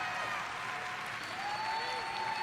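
Quiet, continuous applause from an audience at the E3 2019 Bethesda conference, a dense wash of clapping heard from a distance with a faint tone running underneath.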